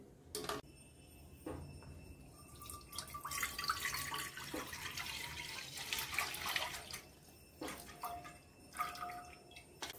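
Cow's milk strained into a pot for homemade condensed milk, a steady trickling and dripping of liquid with intermittent splashes and clinks of utensils, close by and moderately quiet, with no talking.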